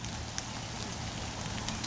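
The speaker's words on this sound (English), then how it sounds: "I wasn't expecting this rain" Steady rain falls outdoors near a raised garden bed under an oak, a soft, even hiss with occasional faint drips, quiet and without voices.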